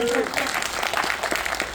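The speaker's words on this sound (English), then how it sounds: "a round of applause" An audience at a film conversation event breaks into brief applause, a dense wash of clapping from a crowd lasting under two seconds, with a voice speaking over it at the start.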